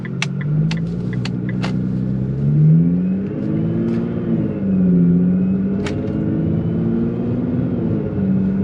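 A car with a Cobb Stage 1 tune and raised boost drives and accelerates, its engine rumbling steadily with rising and falling revs, while a few sharp clicks and ticks sound near the start.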